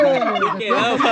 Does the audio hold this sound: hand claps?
no